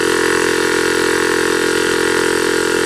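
A small 12V air compressor with a leaky cylinder runs steadily at close range, a constant loud mechanical drone with a fine rapid pulsing throughout and no voices.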